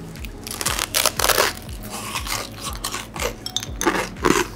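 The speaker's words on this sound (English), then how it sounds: "The crunchiness of the toast is such a good pairing with this slightly oily salmon." Toast topped with salmon carpaccio is bitten and chewed, giving close crunching and crackling bites over a steady background hum in a bar.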